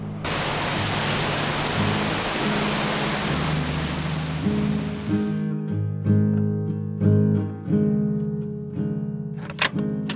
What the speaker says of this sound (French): C'est de la grêle, oui.